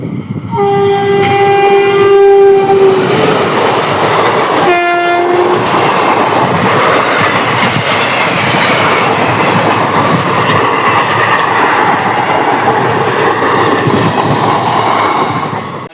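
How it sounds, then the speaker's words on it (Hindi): An electric train sounds its horn in a long blast and a short second one, then roars past close and loud with rumbling, clattering wheels throughout, no talking. "बड़ी जोर और शोर से ट्रेन आती हुई दिखाई दे रही है। अरे बिजली वाली ट्रेन, बिजली की रफ्तार से।"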